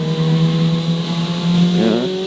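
A Ferrari 488 Challenge race car accelerates on a track, its engine droning steadily and loudly up close before the pitch jumps sharply near the end as it shifts and climbs again.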